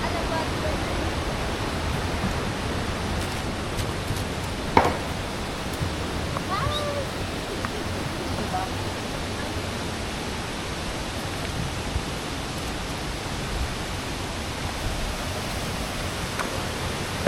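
Tukuran Falls waterfall thundering in a steady, close, broadband roar that holds for the whole stretch without letting up.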